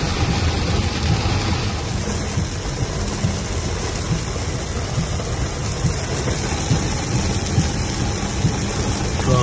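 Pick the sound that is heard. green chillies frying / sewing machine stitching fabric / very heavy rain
very heavy rain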